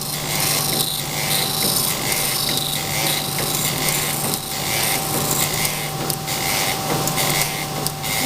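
Continuous harsh grinding of steel vise jaws on a surface grinder, a steady abrasive rasp with a faint whine, rising and falling slightly as the wheel passes.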